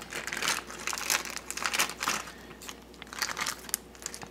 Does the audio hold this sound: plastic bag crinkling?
yes